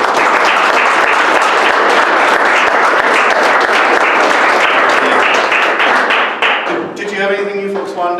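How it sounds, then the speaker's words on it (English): Loud, dense applause from an audience at a Google Developer Group tech meetup hosted at Gusto, sustained steadily for about seven seconds before tapering off as a voice begins talking. "First off, round of applause"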